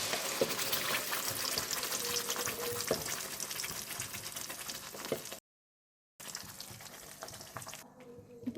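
Gravy poured into hot oil with sizzling mustard seeds for a capsicum cashew curry, giving a steady broadband sizzle and wet splashing with a few clatters, a brief gap, then quieter bubbling close by.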